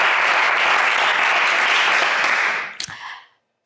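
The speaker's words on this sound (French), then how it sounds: "on applaudit Henri, s'il vous plaît" A studio audience on a French television game show claps loudly and densely for a contestant, a bright full burst of applause that fades out quickly toward the end, leaving a couple of stray claps before silence.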